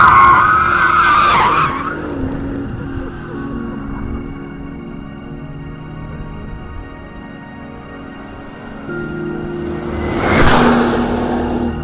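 A Porsche 911 GT2 RS or Mercedes SLS AMG Black burning rubber on a circuit: screeching tire squeal over a droning engine, with a loud pass-by whoosh at the start and another near the end.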